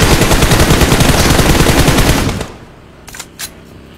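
Rapid automatic gunfire in PUBG Mobile rattles loud and close for over two seconds, then breaks off, leaving a couple of faint, sharp shots afterward.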